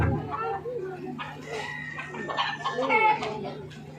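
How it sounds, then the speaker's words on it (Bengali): A rooster crows and clucks close by, loud repeated calls rising over faint background voices. "মোরগ আসছে"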